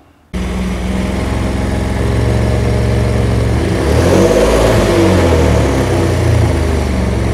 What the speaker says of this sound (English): let me go ahead and give you a sound of what this exhaust system sounds like when I have it turned on